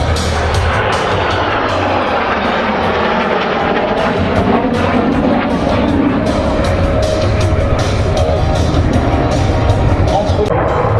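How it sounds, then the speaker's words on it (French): Dassault Rafale Marine jet flying at the La Ferté-Alais airshow, a loud continuous roar filling the scene with surging power and broadband rumble, a commentator speaking over it. "Sa Majesté, le Rafale Marine,"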